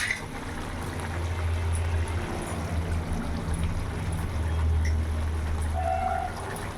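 Bengali pabda fish kalia simmers in a pan, a soft steady bubbling and gentle sizzle that stays even and low throughout, with no talking.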